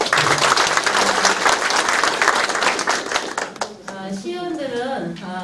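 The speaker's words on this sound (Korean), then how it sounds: "다시 한번 박수 주세요" An audience applauds the mayor at a community meeting in Jeungpo-dong, dense loud clapping from a crowd for about three and a half seconds before fading as a voice begins speaking.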